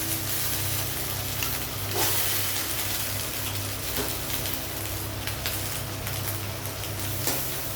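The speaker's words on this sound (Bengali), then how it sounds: "আর এদিকে দেখো সুইট কর্নটা এবারে দিয়ে দেবো বাটারের মধ্যে।" Boiled sweet corn sizzling in butter in a wok, a dense, continuous frying hiss held at an even level throughout with no voices.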